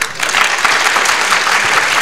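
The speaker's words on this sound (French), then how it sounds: "Non, sortez le vrai applaudissement." Participants at a coaching workshop clap loudly and steadily at close range, a dense burst of applause with no speech over it.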